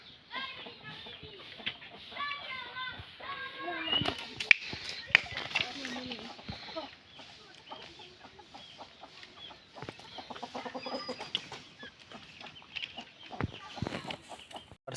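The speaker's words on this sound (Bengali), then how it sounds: "এই যে আরেকটা মুরগি" Hens, kept at home alongside fighter-breed birds, cluck in short, irregular bursts close by, with a voice heard faintly now and then in the background.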